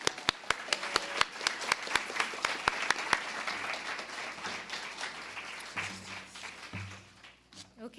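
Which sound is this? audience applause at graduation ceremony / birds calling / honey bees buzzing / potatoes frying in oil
audience applause at graduation ceremony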